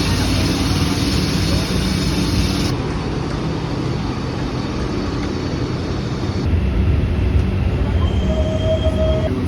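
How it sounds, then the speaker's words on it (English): A Mexico City metro train runs with a loud, continuous rumble of wheels and carriage noise, heard from inside, with a faint high squeal near the end. "now we're taking the metro back"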